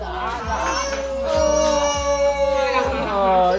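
A dog howls in long, wavering, drawn-out tones close by during a family Tet gathering, with soft thumps and background voices underneath.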